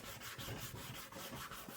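Steady back-and-forth sanding strokes rubbing over a hard plastic egg-shaped shell, close up and rhythmic, with no voices.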